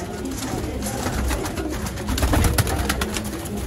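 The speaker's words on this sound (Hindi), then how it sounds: "सारे कबूतर ऊपर छोड़े जरा माशाल्लाह" Pigeons at a bird market in Sialkot coo and call as a flock is sent up into the air, with a busy, dense wash of bird sounds and faint rustling close by, and a voice briefly in the background.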